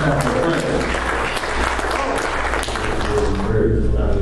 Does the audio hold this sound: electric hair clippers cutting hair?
no